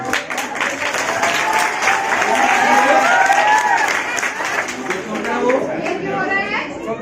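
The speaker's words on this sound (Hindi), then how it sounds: "वो ताली बजानी है।" Audience applause at a children's award ceremony in India, loud and sustained clapping from a crowd with chatter and voices mixed in.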